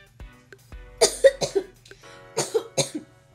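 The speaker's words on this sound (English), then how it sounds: "I started coughing." Someone coughs in two quick bursts of three or four harsh coughs each, close and loud, with a short quiet gap between them.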